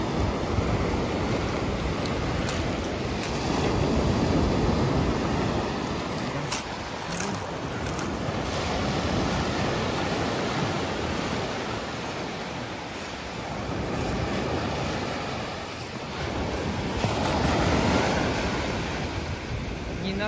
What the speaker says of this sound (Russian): Да, сегодня что-то море бушует.